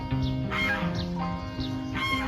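Several chickens cluck and call in short bursts, fairly close, over a steady farmyard background.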